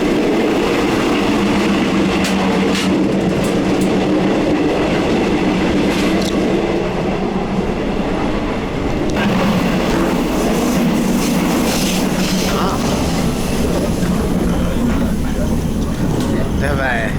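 An old Indian-built train runs along the jungle railway to Gua Musang, its steady loud rumble and clatter filling the carriage from start to finish, with voices talking over it.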